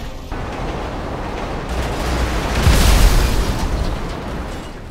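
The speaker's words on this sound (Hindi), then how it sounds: "आगे की सारी कार ब्लास्ट हो चुकी है भाई" Cars and a train blow up in the video game GTA 5: a dense, roaring explosion rumble swells to a heavy peak midway and then sustains, with no talk.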